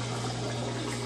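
An Electrolux LT15F washing machine takes in water during its rinse cycle, a steady rushing flow with a low pump hum underneath, close and continuous throughout.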